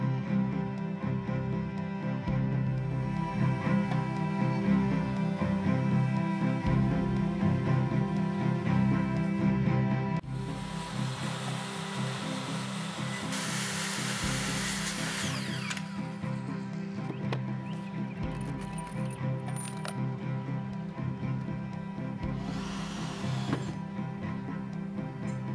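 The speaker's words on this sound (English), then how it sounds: "We're going to cut the rest of the pieces of wood." Power tool cutting pieces of pallet wood while building legs for a long pallet table, a steady mechanical drone with bursts of brighter cutting noise through the middle, running continuously and fairly close.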